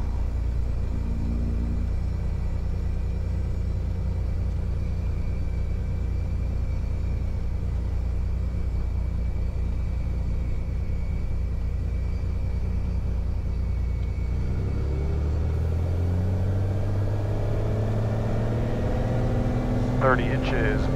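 A Piper Turbo Arrow IV's engine drones steadily during the takeoff roll, a loud constant rumble whose pitch shifts and rises toward the end as power builds, with a voice talking over it.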